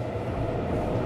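A metro train runs underground in the city-building game Cities: Skylines II, making a steady, even rail rumble with no talking over it.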